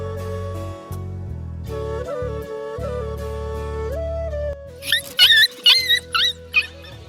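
Puppies whimper and yelp in a series of high, quavering cries near the end, following a stretch of steady tonal background music.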